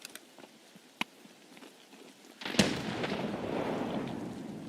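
A grenade goes off in the video game Escape from Tarkov: a few faint clicks and a sharp crack, then a loud, close blast followed by a long rumbling tail.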